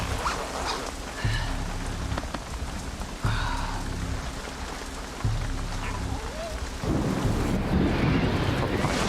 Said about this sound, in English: it was absolutely thundering down on the tent